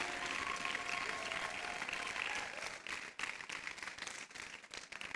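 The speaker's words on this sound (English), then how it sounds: "Please put your hands together for her." Audience applause welcoming a panelist at a media conference, a dense wash of many hands clapping that holds steady, then thins and grows more uneven in its last seconds.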